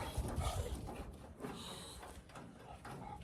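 Several dogs barking near a farm workshop where an old farm truck is being rebuilt into a pickup, a few quick yaps and pants over faint background noise with no talking.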